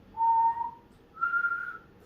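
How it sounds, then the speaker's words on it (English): A person whistles two clear sustained notes, the second slightly higher than the first, separated by a short pause, close and alone. "I can whistle 2 notes now, I believe."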